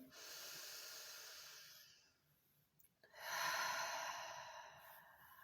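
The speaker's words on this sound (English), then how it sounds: "Take a deep breath in." A slow, deep breath is drawn in as a long, airy hiss, followed after a short pause by a second, fuller breathy rush, close and soft in a quiet room with no talking.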